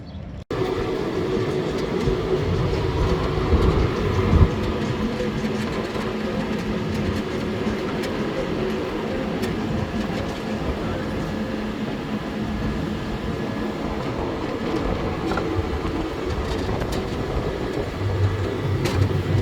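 Long continuous rumble and clatter of a roller coaster train rolling along wooden track at Heide Park, Germany, steady and fairly loud throughout with occasional rattles.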